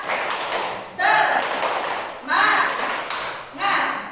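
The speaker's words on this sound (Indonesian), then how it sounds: "Tepuk semangat" Group 'tepuk semangat' spirit clapping in a class session, several bursts of rhythmic claps rising and falling, with voices chanting along.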